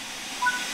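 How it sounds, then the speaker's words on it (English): A steam locomotive's open cylinder cocks in Train Sim World 5 give a loud, steady hiss, with a faint tonal whistle briefly rising within the rush. "the cylinder should have been blown clear by the steam jetting out of them"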